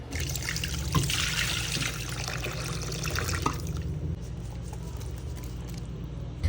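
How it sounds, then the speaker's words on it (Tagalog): Water trickles and splashes steadily into a cooking pot (kawa) in a home kitchen while papaitan is being prepared, a close, continuous pour that thins out and quiets toward the end. "Lalagyan nga lang natin ng tubig"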